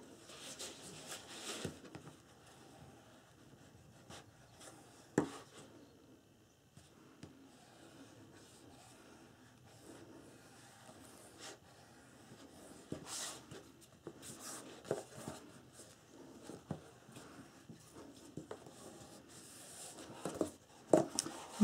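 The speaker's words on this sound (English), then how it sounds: "gently work with the rounded edge of your bone folder to get this to fold" A bone folder's rounded edge rubs back and forth over paper while a fold is worked into a handmade mini album, giving quiet, repeated scraping strokes with occasional soft taps and handling noises.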